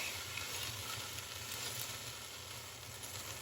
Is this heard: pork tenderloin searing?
yes